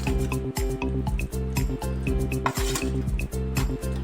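Fried eggs dropped into a simmering, thickened egg masala gravy in a pan, giving steady bubbling and sizzling with soft clinks and splashy squishes, close and continuous.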